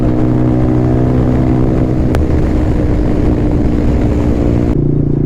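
Yamaha R15 v4 motorcycle engine droning steadily on a Sunday ride, a loud continuous low rumble with wind, shifting briefly near the end.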